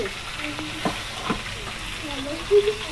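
Rupchanda fish fries in hot oil in a home kitchen, a steady close sizzle with a few stirring scrapes and a brief louder clink near the end.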